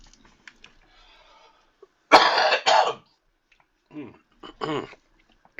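A couple of short, harsh coughs burst out close to the microphone inside a car on the road, followed moments later by someone speaking quietly.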